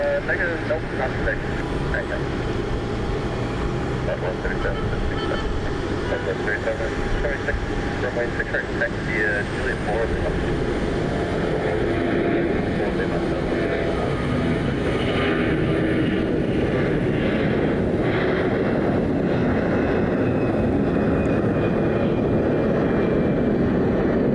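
A Green Bay Packers charter airliner takes off at Cleveland, its jet engine roar building into a loud, steady broadband rumble that holds for the whole stretch, with faint voices now and then underneath.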